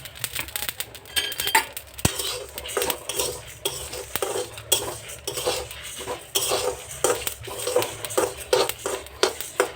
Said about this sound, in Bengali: চটক চটক করলেই মশলাটা ভাজা হয়ে যায়। একটা আওয়াজ আসছে